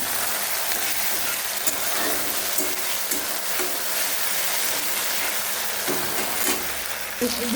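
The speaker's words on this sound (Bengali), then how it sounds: "ভালো করে নাড়িয়ে নেব" A potato and egg omelette curry is stirred in a pan, giving a steady low sizzle with light scraping and clinks from the utensil at intervals, close by and without talk.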